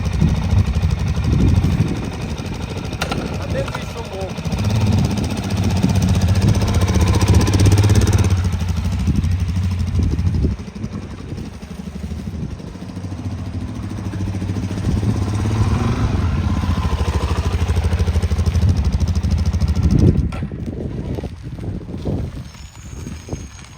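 A Suzuki DRZ400SM motorcycle engine idling close by, a loud, rough, throbbing single-cylinder rumble that holds steady for about twenty seconds, then drops and becomes uneven near the end.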